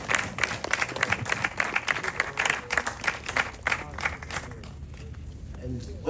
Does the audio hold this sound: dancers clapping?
yes